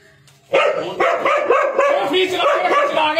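A dog barks repeatedly in a quick, steady run of loud, close yaps, with a few excited whimpering tones mixed in.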